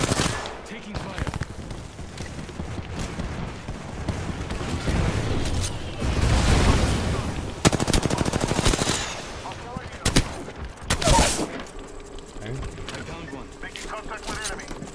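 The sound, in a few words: gunfire in the video game Apex Legends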